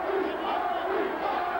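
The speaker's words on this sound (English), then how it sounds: "Crowd vociferously chanting, Gary, Gary" A boxing crowd at a world light welterweight title fight between Aaron Pryor and Gary Hinton chants Gary's name in a loud, sustained, two-beat rhythm, filling a large arena.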